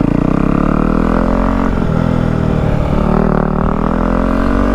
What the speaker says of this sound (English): this exhaust sounds good